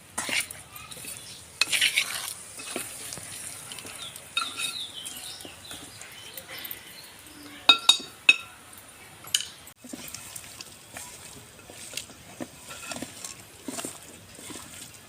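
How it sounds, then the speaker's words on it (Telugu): Chicken feet curry stirred in a pot over a fire, a ladle scraping and clinking against the vessel in irregular bursts with soft sizzling underneath, close and moderately loud. "మంచిగా ముక్కగా పట్టేటట్టు కలుపుకోవాలి"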